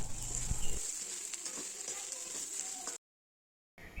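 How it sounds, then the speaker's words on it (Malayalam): Two sprigs of curry leaves hit hot oil for an egg stew, a close, bright sizzling crackle that holds steady before cutting out briefly and returning. "രണ്ട് തണ്ട് കറിവേപ്പില കൂടി ഇട്ട് കൊടുക്കാം"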